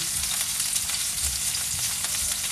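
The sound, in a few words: onions sizzling as they are added to a hot pan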